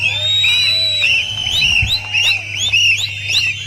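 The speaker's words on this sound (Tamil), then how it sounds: "ஒரே நேரத்தில் விசில் அடிப்போமா?" A crowd at a political rally whistling together, a chorus of shrill whistles with rising and falling sweeps, loud and sustained over a steady low hum from the venue.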